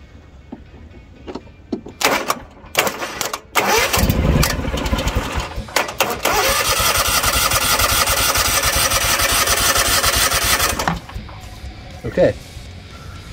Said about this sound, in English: The starter motor engages and it does start spinning the engine.